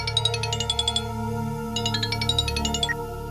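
A telephone rings with two bursts of rapid electronic chirping tones separated by a short pause, loud and clear over a low steady hum.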